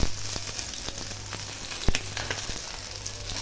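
Bitter gourd (karela) frying in a pan, giving a steady close sizzle with occasional sharp pops and spatters throughout, no voices.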